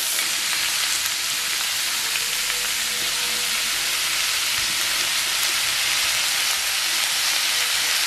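Onions frying in a pan for Jaffna-style seeni sambal, a dense, even hiss of sizzling oil that stays loud and unbroken throughout, close by with no talking.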